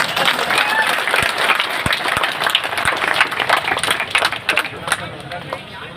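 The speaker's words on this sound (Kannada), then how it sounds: "ಜೋರಾಗಿ ಚಪ್ಪಾಳೆ ಬಾರ ಸ್ವಲ್ಪ ಹುಡುಗಿ" An audience at a local gathering claps loudly and continuously, a dense wash of applause with a few sharper individual claps standing out, fading slightly toward the end.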